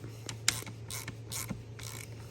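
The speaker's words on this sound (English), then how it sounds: "You get my bigger socket. And you just tighten this up." Socket ratchet tightening the bar-side nut of a full-wrap rifle handguard, a few separate bursts of ratcheting clicks at close range with no talking.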